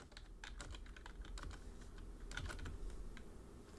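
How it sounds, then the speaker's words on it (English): Rapid, irregular clatter of keys on a computer keyboard as code is entered, a close, steady burst of typing with no voices. "I'll just type whatever comes to mind"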